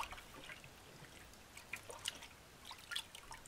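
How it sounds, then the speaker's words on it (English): Water dripping and trickling as black trumpet mushrooms are lifted by hand out of a bowl of rinse water, with soft, scattered close drips and small splashes over a quiet background. "when I pick them up to put them in the next bowl of clean water, I pick them up with my fingers kind of like this"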